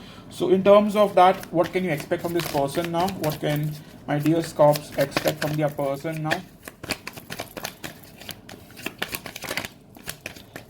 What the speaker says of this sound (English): Sorry for the shuffling noise.